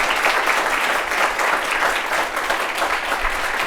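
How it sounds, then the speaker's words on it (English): An audience at a New York office talk applauds, a dense, even wash of clapping from a modest crowd that holds steady for several seconds, close and fairly loud. "maybe a quick a quick clap to thank you."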